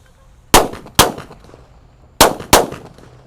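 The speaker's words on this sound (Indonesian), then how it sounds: "Lanjut kita nyalakan super whistling thunder 4 sekaligus ya" Four super whistling thunder firecrackers lit together, going off as four loud, sharp bangs in two closely spaced pairs, each ringing briefly before fading outdoors.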